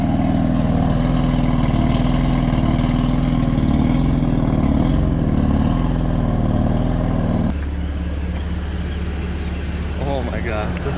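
A BMW car engine idles steadily after start-up, a loud, continuous low rumble that drops slightly in level partway through, with a faint voice over it near the end.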